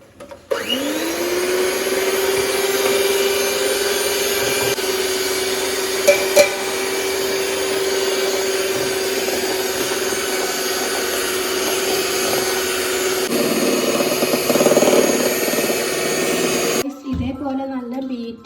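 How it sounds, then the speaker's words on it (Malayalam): An electric beater whips eggs with powdered sugar and cardamom for a Kerala-style egg cake. Its motor holds a loud, steady whine for most of the time, with a few knocks against the bowl, then stops abruptly near the end. "ഇനി നമ്മൾ ഈ പൊടിച്ച് വെച്ച ഷുഗറും ഏലക്കായും ഇതിലിട്ടിട്ട് ഇതൊന്ന് ബീറ്റ് ചെയ്തെടുക്കണം"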